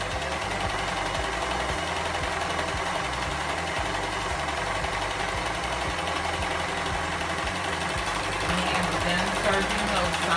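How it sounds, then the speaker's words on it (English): A serger sews the side seams of a tube dress with a fast, steady mechanical chatter close by, running continuously with a slight change in tone toward the end. "Serging those side seams."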